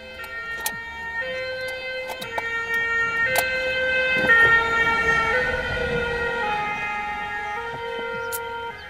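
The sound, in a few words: fire engine siren passing by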